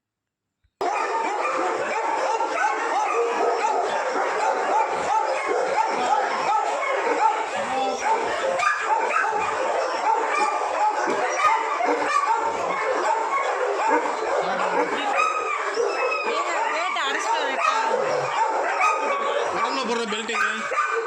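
More than thirty dogs at a boarding kennel bark, yip and whimper together in a dense, continuous, loud chorus that starts abruptly and runs without pause, with human voices mixed in.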